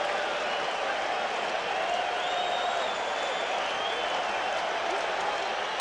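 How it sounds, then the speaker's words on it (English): A packed baseball stadium crowd at Game 7 of the 1986 World Series, Red Sox at Mets, roars and claps steadily, hoping for a strikeout, as a dense sustained wash of cheering throughout. "Crowd making the kind of noise it normally makes for Dwight Gooden"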